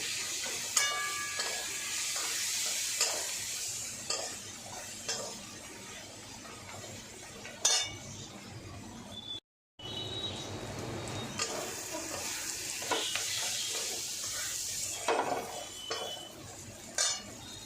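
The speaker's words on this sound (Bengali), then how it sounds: "দিয়ে আমি হলুদ দেব এবার ভালো করে কষে নেব" Spices with turmeric sautéed and stirred in a pan give a continuous close hiss of frying, broken by scraping and clinks of a spoon against the metal, with a brief dropout midway.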